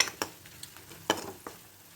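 Ground beef with chili powder and masala is stirred in a hot pan, soft sizzling under a few scraping, clinking strokes of a spoon spaced irregularly, close and fairly quiet.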